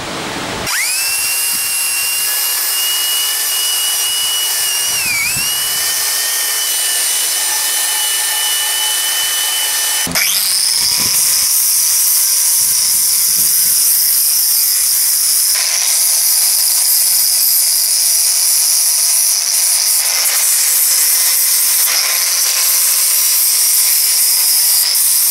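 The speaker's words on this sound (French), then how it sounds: "là je vais passer la brosse métallique, peut-être le disque abrasif sur les surfaces planes" A power tool with a wire brush and abrasive disc grinding the steel chassis of a 1954 Panhard Junior, a loud sustained high-pitched whine that shifts pitch as the tool restarts, close and continuous.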